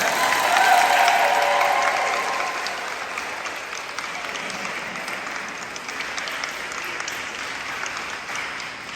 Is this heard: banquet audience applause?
yes